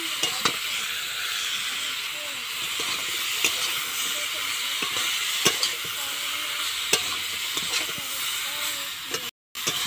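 Vegetable stalks sizzle steadily in a hot pan with oil and sautéed spices, with repeated scraping stirs breaking through the constant hiss, close and loud.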